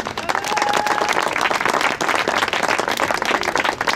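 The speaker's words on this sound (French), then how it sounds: "On peut vraiment les applaudir." A crowd at an outdoor peace rally in Lyon breaks into loud, dense applause, a steady wash of many hands clapping close by for the full stretch with no voices over it.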